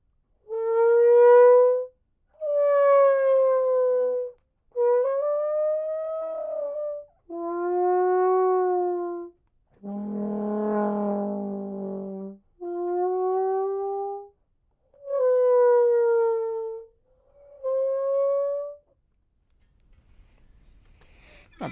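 Trombone muted with a plunger imitating a whale call: eight long, moaning, gliding tones of about two seconds each, loud and alone with short gaps between them, one lower and rougher than the rest.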